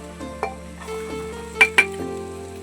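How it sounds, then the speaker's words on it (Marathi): Pavta beans are stirred in a pan with fried onion and roasted masala paste, giving a soft sizzle under a few metal spoon clinks and two sharp scrapes against the pan, with no talking. "हा पावटा 1 मिनिट भाजून घेऊया।"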